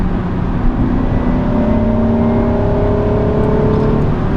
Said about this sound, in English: Rev match it. Oh yeah, it rev matches very well.